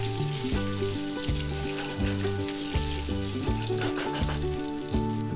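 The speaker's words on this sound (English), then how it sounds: "Add half tablespoon cumin seeds, 2 bay leaves, 2 black cardamom, 3 green cardamom, 2-inch cinnamon stick, and fry it for a few seconds" Whole spices frying in a pot for Punjabi chole masala, cumin seeds, bay leaves, black and green cardamom and a cinnamon stick, give a steady close sizzle with soft stirring taps, under background music, with no voices.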